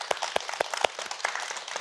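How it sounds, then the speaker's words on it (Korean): Members of a studio audience on a Korean health talk show clap their hands in the ordinary way, a quick run of sharp, fairly close claps with a few louder individual slaps standing out. "첫 번째 박수, 여러분들 제일 많이 치는 박수 한번 쳐보시겠어요?"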